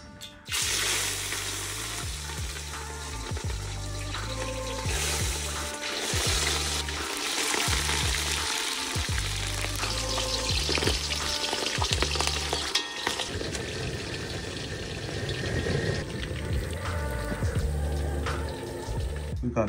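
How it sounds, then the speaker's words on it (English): Creatures frying in conditioned oil, a steady loud sizzle with bursts of stirring and crackling throughout, close up and continuous with no talk. "Now we're gonna fry them."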